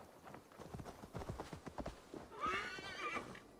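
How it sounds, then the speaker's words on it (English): A horse in Assassin's Creed Valhalla clip-clops with quick, close hoofbeats, then gives a loud, wavering neigh near the end. "let's get on the horse"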